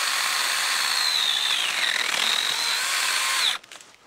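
A STIHL GTA 26 battery garden pruner buzzes steadily as it cuts through a tree limb, its whine dipping under load, then stops abruptly near the end, leaving brief quiet clatter.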